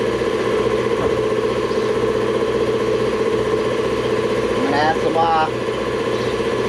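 A steady air compressor hums continuously in a garage during DIY brake repair, running at an even level as it builds up pressure, with a brief spoken remark near the end.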